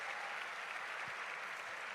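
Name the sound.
audience applause at live event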